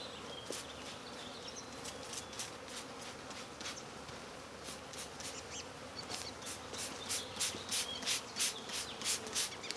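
Honey bees buzz around a backyard hive, a dense, continuous drone close by that swells louder toward the end, with no voices.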